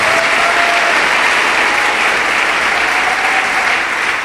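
A church congregation applauds and cheers loudly during a pastor-led worship service, a dense, sustained roar of clapping that fills the whole stretch without a break.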